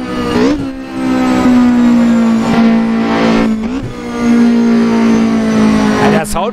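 A loud Opel Kadett C 16V racing car engine roars and revs in the Assetto Corsa video game, dipping and climbing as gears shift, with a voice talking over it.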